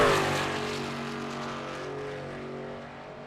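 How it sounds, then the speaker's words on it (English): A racing truck engine in a truck series race at Texas from a racing video game, a loud steady high-revving drone at speed that fades gradually as it pulls away. "Truck sounds a little more up to speed here."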